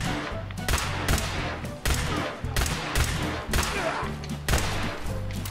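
Pistol fitted with a sniper barrel firing in the video game Fallout 4, heavy booming shots in a steady rhythm of about one per second, each with a deep thud and rumbling tail, loud and close with no talking.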